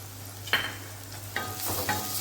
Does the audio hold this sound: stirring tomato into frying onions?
yes